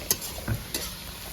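Onions frying in a pan for village-style khichuri, a steady soft sizzle with a few brief stirring scrapes and clinks, close by, with no voices.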